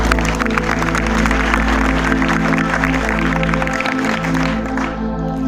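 An audience at a patriotic motivational speech claps loudly and continuously, dense applause filling the hall before tapering slightly at the end.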